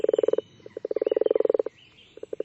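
A toad croaks in rapid pulsing trills, several bursts of evenly spaced loud croaks with short pauses between, close and clear with no other sounds.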